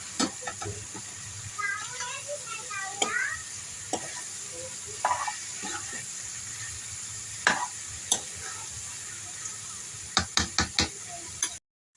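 Bottle gourd curry fries in a pan, a soft steady sizzle broken by scraping stirs and a quick run of clicking spoon taps against the pan near the end.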